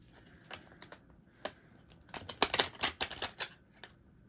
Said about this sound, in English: I'm going to shuffle for you guys really quick